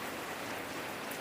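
Steady heavy rain pours down during an outdoor football game in the wet, a dense continuous hiss with no break and no voices.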